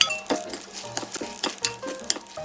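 Beaten egg, garnish and chopped oysters are stirred into an oyster pancake batter, producing close, irregular wet sloshing strokes with occasional clinks of a utensil against the bowl. No one speaks.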